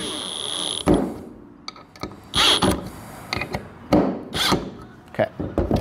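A power gun runs stator bolts onto a Triumph 900 Thruxton Bonneville Scrambler in a workshop, several short loud whirring bursts separated by pauses, close and mechanical, with faint clanks of metal in between.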